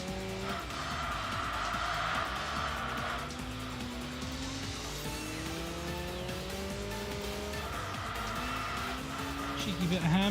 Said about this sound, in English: Cheeky bit of handbrake helps.